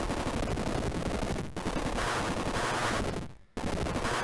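Rapid gunfire from a first-person shooter weapon blasting at dungeon walls in the retro game The Catacomb Abyss, dense and continuous with two brief gaps, close and loud.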